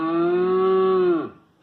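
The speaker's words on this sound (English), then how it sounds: "Okay Google, make sound of a cow." A single long cow moo played back through a smart speaker, loud and steady for over a second before trailing off into quiet.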